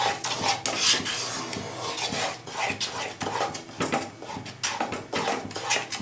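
Sugar and ghee stirred rapidly in a pan for powdered-milk sandesh, with repeated metallic scraping and clinking of a spoon against the pan in a quick, uneven rhythm, close and without speech.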